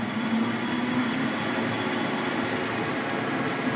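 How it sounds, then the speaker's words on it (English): Metal lathe driven through a variable frequency drive, running steadily with a constant motor whine and a faint buzzing hum, no change in speed over the few seconds. "And obviously the lathe is going."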